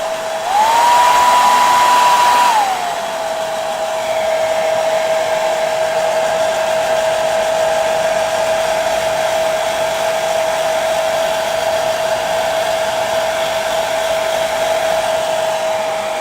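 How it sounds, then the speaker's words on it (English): A hairdryer drying Astrogranite basing paste runs as a steady, close, loud whine for the whole stretch, with a higher-pitched surge in the first two seconds before it settles to a constant tone. "I'm going to reach under the desk and quickly dry it with a hairdryer"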